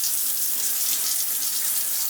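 Water rushes steadily and forcefully from a shower head, giving a broad hiss that stays even throughout, with no talk over it.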